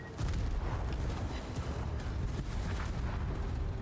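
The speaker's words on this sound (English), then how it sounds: "The Hornet finished him off with the carpet bombers" Carpet bomber explosions in the naval video game World of Warships roll out as a loud, continuous rumble of overlapping blasts with crackling bursts layered on top, holding steady for several seconds with no voices.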